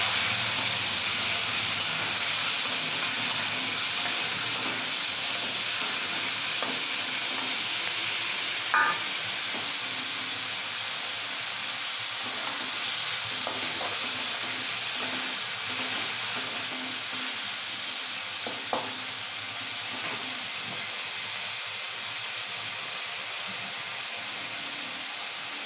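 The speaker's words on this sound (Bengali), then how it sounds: "মা রসুন আর আদাটা ভাজা হয়ে গেছে, এর মধ্যে দিয়ে দিচ্ছে চিকেন" Marinated chicken frying in a pan with already-fried garlic and ginger gives a steady, moderately loud sizzle and hiss, with a few sharp stirring clicks scattered throughout.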